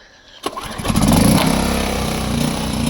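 A VOIN DV-1500i inverter generator starts with a sharp catch and then settles into a loud, steady, even running hum close by, with no talking.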